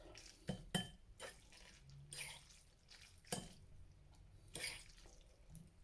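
Tomato sauce is stirred into a bowl of spicy Carolina Reaper chicken ramen noodles, producing quiet, scattered clinks and wet scrapes of utensil against bowl, spaced irregularly over several seconds.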